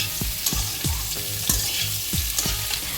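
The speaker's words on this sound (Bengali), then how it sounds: "তারপর তেলের মধ্যে ফোড়ন দিয়ে আলুগুলোকে ভেজে নিয়েছে।" Boiled potatoes frying in hot oil with tempering spices, a continuous loud sizzle broken by regular scraping stirs roughly every half second, close up and without speech.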